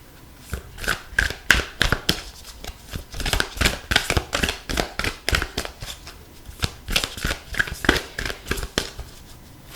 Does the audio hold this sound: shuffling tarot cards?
yes